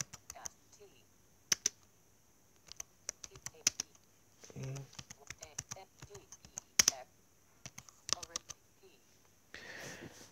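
A test message is typed on a keyboard as sparse, crisp key taps in irregular bursts, close and quiet, with brief murmurs of a voice between them.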